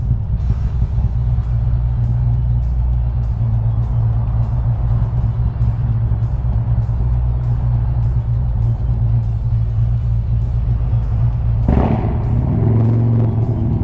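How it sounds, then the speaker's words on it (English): A motorcycle engine idling in a steady, loud, low rumble, then suddenly revved hard near the end in a short rev bomb, close and alone with no talk. "That's how you rev bomb, right?"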